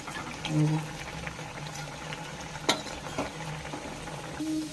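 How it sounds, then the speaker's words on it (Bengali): Pea-stuffed kochuri slipping into hot oil in a kadai, a soft bubbling fry with light sizzle and a few sharp splashes and utensil taps, moderately close. "কচুরিগুলো ছাড়া হচ্ছে।"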